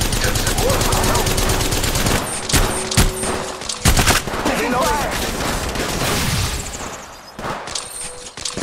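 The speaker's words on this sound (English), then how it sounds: "The enemies are shooting at me." Dense automatic gunfire from the mobile battle royale shooter Apex Legends Mobile, loud and close, bursts and rattles almost continuously, with brief pauses and a voice speaking in the game over the shooting.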